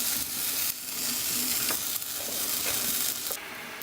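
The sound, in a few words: water boiling in a pot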